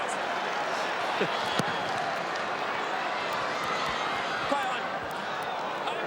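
A St Kilda cheer squad jeers a player at an Australian rules football match, a steady, dense roar of crowd noise from the stands that keeps going throughout with a few sharp knocks on top.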